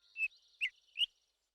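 A little cartoon bird gives three short, high chirps spaced evenly apart, clean and close against silence.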